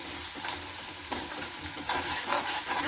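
Vermicelli frying and being stirred in a pan for a salty namkeen dish, a steady soft sizzle with scraping stir strokes, close and fairly quiet, with no talking.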